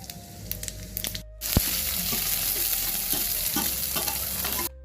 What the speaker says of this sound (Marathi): आता आपण त्यात तेल ओतून घेतलेले आहे आता जिरे टाकू